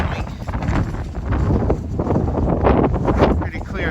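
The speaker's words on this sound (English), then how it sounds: "Pretty windy." Wind gusting across a fishing pier near the Richmond Bridge in Richmond, California, on a clear night at low incoming tide, a steady loud rumbling buffet on the microphone throughout.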